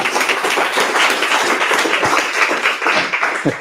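An audience at a tech demo night in Cornwall applauds in a dense, steady burst of many hands clapping, loud and close, holding level for a few seconds before tapering.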